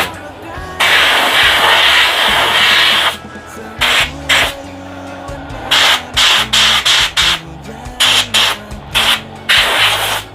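Spray gun blasting to strip leftover clear-coat and paint residue, a long loud hissing burst followed by a series of short repeated spurts with pauses between them.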